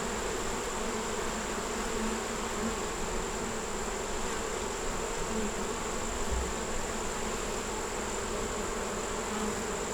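Honeybees at a hive entrance returning with pollen fill the air with a steady, dense buzzing drone, close and constant throughout with no talk.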